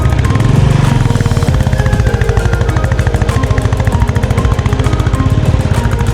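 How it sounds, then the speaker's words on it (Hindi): A motorcycle engine runs on the mountain road from Shimla toward Narkanda, a loud, close, rapid, evenly pulsing throb that continues without a break. "बाइक की आवाज़ सुन रहे हो?"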